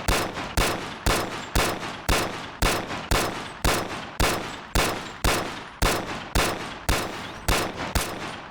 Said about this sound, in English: the first weapon we have is the 1911 DS Prodigy. It's a pretty basic pistol.